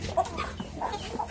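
Free-range chickens in a garden coop cluck softly and intermittently, a few short calls rising over quiet background noise.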